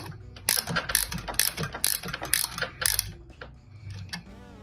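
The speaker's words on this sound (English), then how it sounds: "And then I got a ratchet end wrench. Put on this end. And run it home." Ratchet end wrench being run home on a fastener, a close series of quick rhythmic clicking pawl ratchets in bursts, fading to softer mechanical ticks at the end, no talk.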